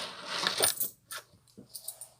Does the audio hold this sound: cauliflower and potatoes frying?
no